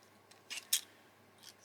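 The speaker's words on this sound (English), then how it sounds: "I always give a nice border if I'm cutting with fancy scissors." Paper being cut with decorative-edge craft scissors for a book card, a few quiet crisp snips in quick succession, close and alone.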